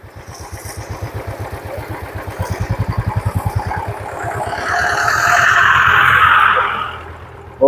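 A motorcycle engine thumps in a steady, rapid rhythm up close in Mankulam, Kerala, then swells into a louder, rougher roar as the bike accelerates away.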